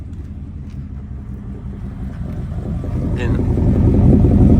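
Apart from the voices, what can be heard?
1971 Ford F100 truck engine idling after cold start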